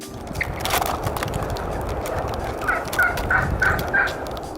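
Several turkeys gobble in a quick rippling series, close by, over a background of rustling and general outdoor noise.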